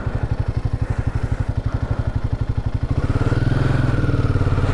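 A motorcycle engine idles close by with a steady, rapid thumping pulse, settling into a denser, louder rumble partway through as the bike is parked beside a highway restaurant on a solo Ladakh ride from Kargil to Leh.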